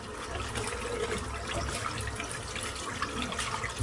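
A shaving brush is rinsed under a running tap, giving a steady close hiss and splash of flowing water with small gurgling shifts for a few seconds, with no talking.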